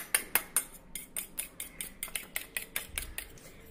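Cracked eggs with salt are beaten in a bowl for an omelette, giving quick, rhythmic clicks of a utensil against the bowl, close and fairly quiet, with no talking.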